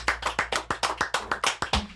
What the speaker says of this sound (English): We're gonna clap it up